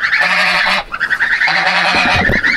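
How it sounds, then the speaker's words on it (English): Geese honk loudly and close by, a string of harsh, repeated calls that overlap with a brief pause partway through. "I cannot believe how fast these other geese are growing"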